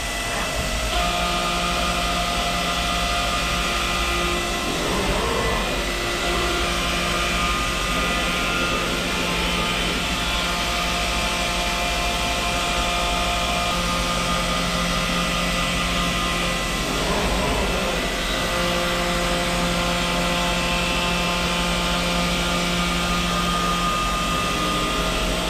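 CNC milling machine cutting a 7/10 scallop finish, a loud steady whine with sustained tonal hum and periodic swells as the tool passes, heard alone without talk.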